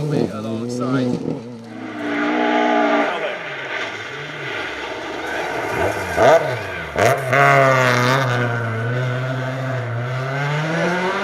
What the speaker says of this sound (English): I love watching the cars at full tilt.